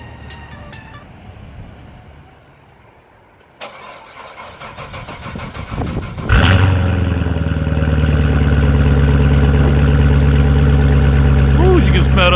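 A C7 Corvette Z06 engine cranks and catches with a sharp roar, then settles into a loud, steady, rumbling idle that continues to the end.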